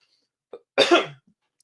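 One close, harsh cough during a live show, a short rough burst preceded by a small throat sound, then quiet.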